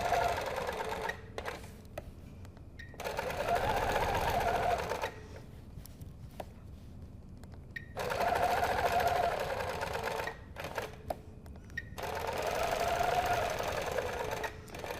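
A sewing machine fitted with a 360 Wonderfoot hopping foot stitches a quilt in the ditch, running in steady rapid bursts of a few seconds with short pauses between, quiet and close.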